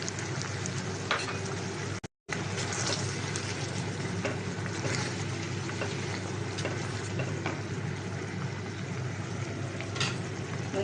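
Water is added to a chicken Manchurian mixture frying in a pan, producing a continuous close sizzle and bubbling hiss with occasional stirring scrapes, interrupted once by a short silent gap.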